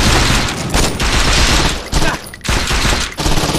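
Continuous heavy gunfire in Saints Row 2 with infinite ammo, a loud, dense fusillade of rapid shots filling the whole stretch with only brief dips between bursts.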